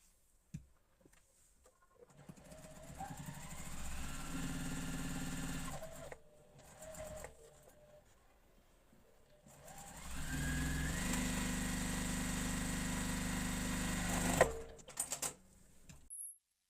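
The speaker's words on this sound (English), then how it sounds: "So we'll go stitch this one on and then press it open." A sewing machine runs in two long steady stretches stitching quilt block pieces together, close and humming with a rapid needle rhythm, separated by brief pauses and handling noises.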